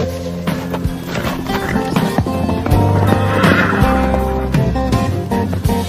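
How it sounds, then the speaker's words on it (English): Horse moving close by, with hoof clops and shuffling over a dense, busy background of music-like tones and other noise. "Nice horsey. Nice horsey. Nice horsey."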